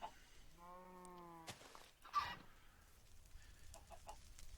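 Chickens in Minecraft's Better Than Wolves mod let out a short harmonic cluck, followed by a sharper squawk and faint scattered clucks, all quiet and fairly close with no talking.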